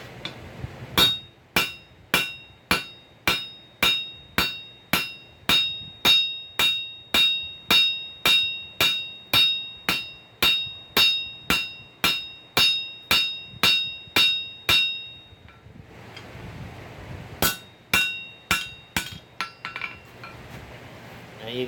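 Hot steel hammered on an anvil while forging pick-up tongs: a long, steady run of loud, ringing metallic blows about two per second, a brief pause, then a few more strikes, close by.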